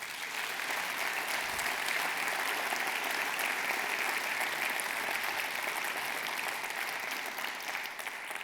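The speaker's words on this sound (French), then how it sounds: "Merci de les applaudir." Sustained applause from an audience at a 2026 New Year's greetings ceremony, steady dense clapping throughout with no talk over it.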